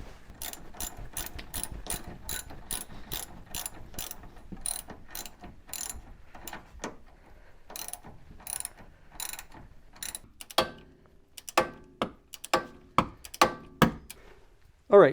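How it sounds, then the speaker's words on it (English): A torque wrench ratchets rhythmically while tightening a tie rod end on a C3 Corvette steering system, a close run of sharp clicks that slows into spaced, heavier clacks. "we're getting this tie rod end torqued down here"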